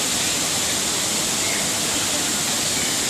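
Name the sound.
man-made waterfall at Jurong Bird Park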